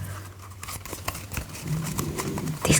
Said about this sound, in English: These cards don't want to shuffle.